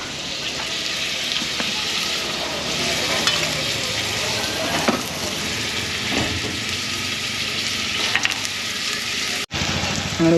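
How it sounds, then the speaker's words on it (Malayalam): Onions sauté in a pan, sizzling loudly and steadily with occasional stirring scrapes, ending abruptly near the close. "ചിക്കൻ കറി വെക്കുക ഉള്ളി വഴറ്റാൻ ഇട്ടിട്ടുണ്ട്"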